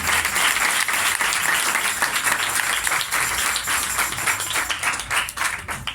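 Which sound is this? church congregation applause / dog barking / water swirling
church congregation applause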